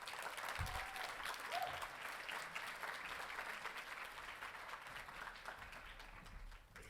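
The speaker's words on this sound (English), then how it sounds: "Let's give them a round of applause." Sustained applause from a conference audience at an opening session, steady dense clapping from a fairly distant crowd that fades slightly at the end.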